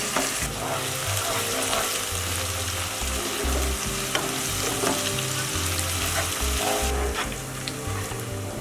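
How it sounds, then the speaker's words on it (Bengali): Onions, garlic and spices fry in a pan with a steady, dense sizzle that runs the whole time, broken by the close scrape and clatter of stirring, and no one speaks. "সবগুলো একটু ভালো করে ভেজে নেব।"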